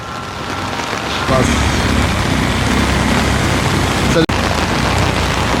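Heavy rain pouring during flooding in Jaffna, a constant loud hiss of rainfall and rushing water that swells slightly after the first second, with a brief dropout near the end.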